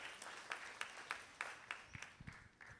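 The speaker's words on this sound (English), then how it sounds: "Let's give a applause to welcome the Professor Wang." Faint, scattered applause welcoming Professor Wang at a high school students' conference, a few distinct claps in an uneven rhythm amid soft room noise.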